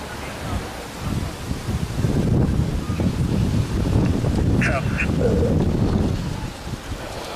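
Cold wind blowing hard outdoors, a steady rushing roar buffeting the microphone with low rumble throughout, swelling stronger through the middle and easing slightly at the end, with a faint brief tone partway through.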